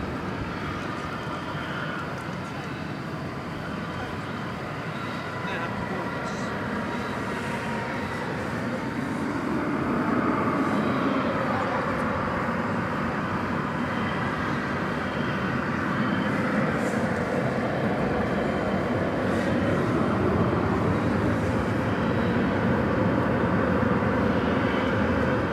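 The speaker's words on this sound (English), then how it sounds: "Here's an Airbus A321 coming in from Los Cabos in Mexico, flight 2213." An Airbus A321 airliner coming in to land at DFW Airport at night, its broad jet roar heard from a distance, growing louder about halfway through and then holding steady as a wide rushing drone.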